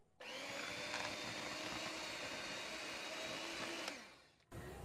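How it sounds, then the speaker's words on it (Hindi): An electric beater whirs steadily as it mixes batter for Konkani sakroli, a loud, continuous motor drone that runs for several seconds and then stops. "अब हम बीटर से मिक्स करेंगे।"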